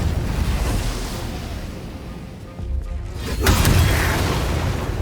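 Booming Blade spell effect from Baldur's Gate 3: a loud, sustained rumbling boom with a whooshing burst partway through, swelling again near the end without speech.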